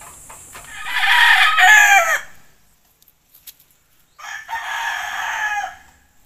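Pet chickens and a rooster in a backyard flock, with two loud crowing calls from close by, the first about two seconds long and the second after a brief pause with faint clucks between.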